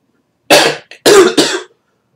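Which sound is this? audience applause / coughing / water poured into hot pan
coughing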